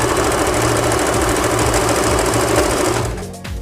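An Usha Janome sewing machine running an overlock stitch makes a loud, fast, steady mechanical whirr with rapid needle chatter, close up, stopping abruptly near the end, with no talking.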